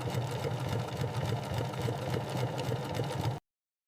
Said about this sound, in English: The signature Bugatti diamond stitch pattern is applied to the seating.